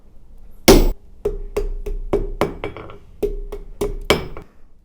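A hammer strikes hot forged steel to cut off the end of a chisel, about a dozen sharp, ringing metallic blows at an uneven, deliberate pace, loud and close with no talk.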